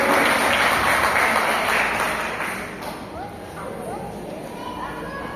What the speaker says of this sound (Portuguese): Aplauda o Senhor, amado, por tudo.